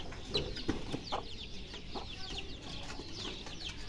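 Chickens clucking in a village yard, a steady run of close and overlapping clucks and short calls over a constant outdoor background, with no speech.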